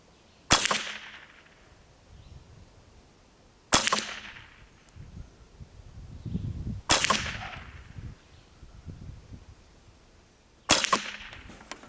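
An A22 rifle with a 21-inch barrel fires four sharp, evenly loud cracks spaced a few seconds apart outdoors, each with a short ringing tail, with quiet rustling and handling sounds between shots.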